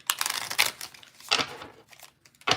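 Tarot cards shuffled by hand in short papery bursts of riffling and crinkling, close and fairly loud, with brief pauses between the flurries and no voices.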